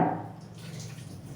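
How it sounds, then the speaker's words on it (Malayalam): Close, wet squelching as soggy chopped onions are squeezed, followed by a brief trickle and drip of water. "ഈ സവാളയിൽ നിന്ന് ആ വെള്ളമെല്ലാം ഇതേപോലെ ഒന്ന് പിഴിഞ്ഞ്"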